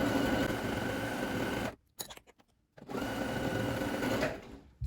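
A sewing machine runs a zigzag stitch, attaching stretched elastic around a leggings opening. It whirs in two steady bursts with a short stop in between, close and loud.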